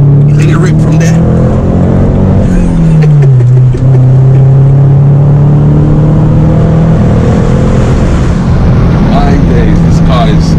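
A manual six-speed BMW 1 Series E82 engine rises and sustains a loud droning note as it accelerates, the pitch sweeping down and then holding steady from inside the car, with no speech.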